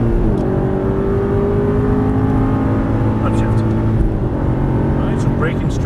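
A car on a race track accelerating hard: a loud, continuous engine roar whose pitch climbs steadily, then drops with an upshift before rising again, with a voice talking over it.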